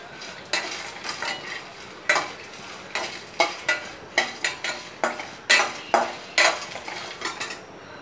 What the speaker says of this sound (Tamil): இதை வந்து எண்ணெயே விடாமல் தான் நான் வறுக்கிறேன்